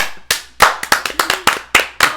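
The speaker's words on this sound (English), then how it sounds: "Clap, clap, clap." Sharp hand claps, about eight or nine in an uneven rhythm, close and loud, with nothing else around them.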